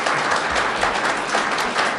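An audience at a New York 19th Congressional District debate applauds the candidates, with a brief, steady burst of many hands clapping at moderate loudness.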